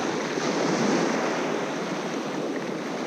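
Ocean waves break continuously on a surf beach beside a gutter where flathead are being fished, giving a loud, steady roar of surf with some wind noise and no talking.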